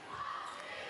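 Crowd cheering and shouting at a Russia versus Switzerland women's volleyball match at the Montreux Masters, a sustained, fairly even roar of many voices filling the hall for the full second.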